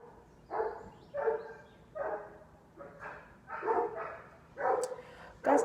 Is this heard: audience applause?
no